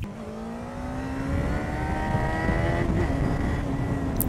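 A car accelerates out of a bend on the climb of the Col de l'Espigoulier, its engine note rising smoothly and steadily in pitch, heard from onboard over road and wind rumble.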